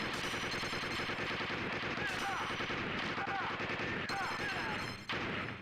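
Video game gunfire in the arcade shooter Operation Night Strikers, dense rapid machine-gun bursts and explosions running continuously and loud, with a voice talking underneath.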